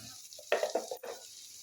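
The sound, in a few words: beetroot frying and being stirred in pan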